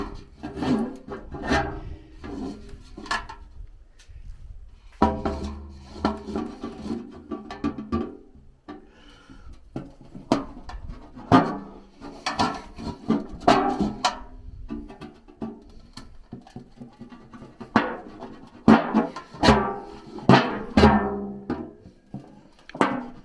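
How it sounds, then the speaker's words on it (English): Chisel pushed by hand through the holes of a metal plant pot, irregular scraping and rasping bursts with knocks and short pauses, close and moderately loud. "I'm going to push this chisel through each one of the centers of those holes"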